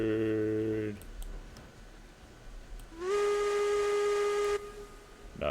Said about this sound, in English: I do like the whistle on the Class 48, so there may be a few unneeded whistle blows in this